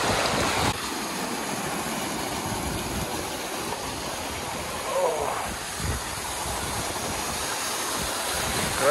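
A broad, constant rush of water from a double-stream waterfall among rocky cliffs in the Urals runs throughout, close and steady, with a brief voice-like sound briefly over it.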